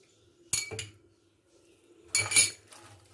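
A large spoon mixes date dessert ingredients in a bowl, two bursts of clinking and scraping against the dish separated by a quiet pause, close and without talk.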